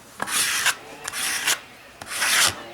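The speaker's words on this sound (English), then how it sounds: "plain old plastic scraper" A plain plastic scraper rubs glued backdrop paper onto a wall in three long rasping strokes, each a broad scraping hiss with a sharp catch at its start and end, close and alone with no talk.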